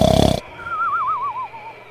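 A cartoon-style bear snoring sound effect gives a loud, rasping snore burst, followed by a softer wavering, whistling exhale that trails off.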